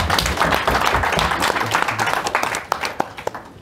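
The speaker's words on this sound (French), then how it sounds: "Je vous prierai d'applaudir pour tout le monde" An audience claps at the close of a lecture session, a dense wash of applause that gradually thins out toward the end into a few scattered, louder individual claps.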